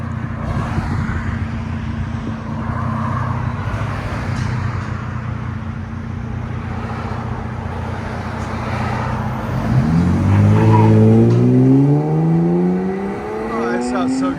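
A 2021 Ram 1500 pickup with a 3.6-liter V6 and Flowmaster Super 4 exhaust, resonator delete and 5-inch black tip, idles with a steady low drone, then revs loudly, the pitch sweeping upward through a sharp climb near the end.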